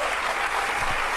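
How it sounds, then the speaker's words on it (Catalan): An audience claps through a short burst of applause, a dense even patter of many hands, moderately loud and heard without voices over it. "ja sentiu els aplaudiments que segueixen a cada frase d'aquest individu"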